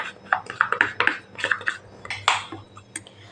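A metal spoon scrapes and clinks against a metal bowl while a ground potato, chili and ginger gravy is transferred into it, giving a close, irregular run of short metallic knocks and scrapes with no talk.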